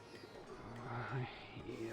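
Pigeons coo softly in Shenmue 2, a low, rounded warbling heard a few times at moderate distance beneath a steady bed of game ambience and faint background noise.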